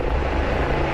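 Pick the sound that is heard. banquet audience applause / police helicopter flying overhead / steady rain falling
police helicopter flying overhead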